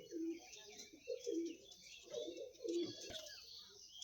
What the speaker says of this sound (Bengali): উস্তাদ সরোজের পায়রা এগুলা ওর জানের পায়রা